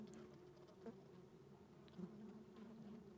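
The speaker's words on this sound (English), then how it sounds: "Like many other species, this bee is moving further and further north." A steady, close buzzing of a bee over sandy soil in a nature setting, continuous with a few louder swells as it moves about, no voices present.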